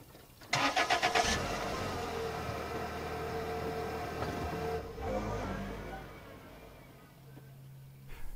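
A car engine cranks with a quick stuttering burst, catches, and settles into a low, steady idle close by.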